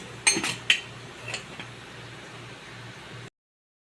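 Metal lid set on a cooking pot of vegetables, two or three close clinks and clanks at the start, then a faint low hum until it cuts off.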